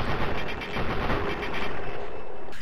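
Dense, continuous gunfire from Fallout 3 on PC, loud and rumbling with overlapping shots and booming low end throughout, no talking.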